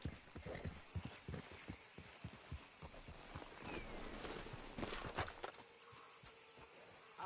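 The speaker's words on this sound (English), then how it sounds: "Let's leave the horses off the road to the right here." Horse hooves in Red Dead Redemption 2 clip-clop in a steady walking rhythm, fairly close, with a faint background hum and no talking.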